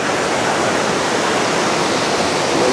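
Steady rushing roar of fast-flowing water in the Koovam river at Manaval Nagar, Tiruvallur, a dense continuous wash that stays loud and even throughout with no voices.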